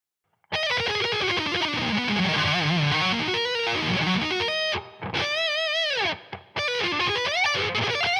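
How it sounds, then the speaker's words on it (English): An electric guitar run through a Bias amp model with Helix reverb plays distorted, sustained chords and bending lead notes, loud and alone, with brief gaps where the reverb tail rings out. "something cool we can do is add reverb after Bias"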